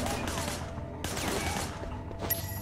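Bursts of gunfire in the Sleeping Dogs video game, with a shooter firing from the passenger window of a van, come as rapid fusillades in two clusters with a short gap between them and game noise behind them.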